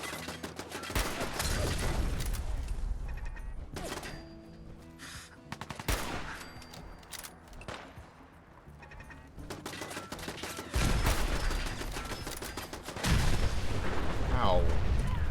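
Gunfire from a fight with gunners in the video game Fallout 4: repeated sharp shots and rapid bursts crackle loudly through the whole stretch, getting heavier toward the end, with a player talking over them.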